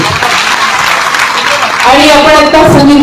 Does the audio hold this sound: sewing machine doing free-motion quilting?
no